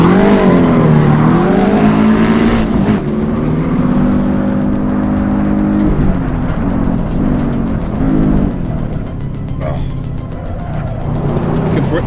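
A race car is driven hard around a track lap, its loud engine revving up and down through gear changes close to the microphone, with a steady roar throughout.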